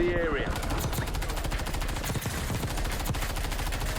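Rapid automatic gunfire in the Warzone video game, a dense, continuous burst of loud shots in fast rhythm throughout, close and dominant, with a brief voice at the start.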